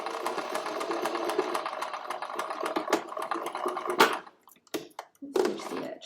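Sewing machine stitching along the edge of a fabric bag handle, a rapid rhythmic needle chatter for about four seconds, then a few short stop-start bursts near the end; close and clear with no talking.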